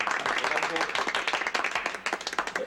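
A studio audience at a French-language game show claps for a contestant, a lively stretch of many hands that thins into sharper, more separate claps toward the end.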